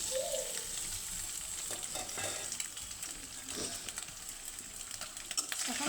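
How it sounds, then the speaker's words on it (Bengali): Steamed egg pieces dropped into hot oil in a pan fry with a steady, fine crackling sizzle that runs through the whole stretch at a moderate level, with a few brief louder pops and stirring noises and no talk. "আমরা যে ডিম ভাপ দিয়ে যে রাখছিলাম ওগুলা ছেড়ে দিব, কারণ ওগুলা একটু ভেজে নিব লাল লাল করে।"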